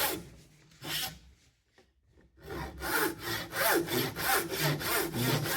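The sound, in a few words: hand saw cutting wood joint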